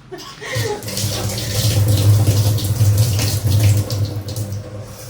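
Cooking ingredients for Telangana garelu being rinsed under a running tap, water splashing steadily and loudly into a sink or vessel for the whole stretch, close up.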